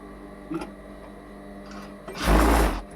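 A sewing machine lock-stitches a kurti neckline: a short tap of the mechanism, then a loud, close burst of rapid whirring stitches lasting under a second before stopping.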